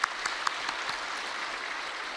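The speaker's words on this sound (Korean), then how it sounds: "우리 한 박수 한번 할까요?" A church congregation applauds in a soft, sustained patter, with a few sharper claps standing out at the start before the sound settles into a faint, even wash.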